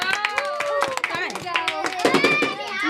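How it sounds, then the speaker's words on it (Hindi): Guests at a wedding clap their hands in quick, uneven bursts amid lively chatter and children's voices, the claps close and sharp over the crowd. "ताली बजाओ ताली बजाओ।"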